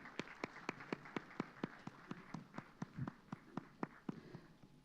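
Faint, steady rhythmic clapping at an inaugural ceremony during lamp lighting, evenly spaced single claps from a distance with little crowd noise and no talk.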